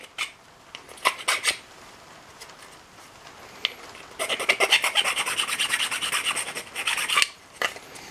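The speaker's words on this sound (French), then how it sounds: "je me sers d'une lime un peu plus petite." Metal being filed by hand with a smaller file while building an 80W diving lamp: short rasping bursts early, then a long run of rapid, close, repeated scraping strokes, a few more strokes at the end.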